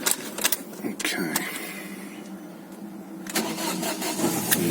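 A three-door car is cold-started on a winter day: a few sharp clicks and cranking, then the engine catches near the end and settles into a fairly close, steady run.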